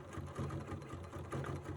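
Home sewing machine stitching slowly to couch decorative fibers onto a quilt, a steady close mechanical hum with rhythmic needle pulses, fairly quiet and alone.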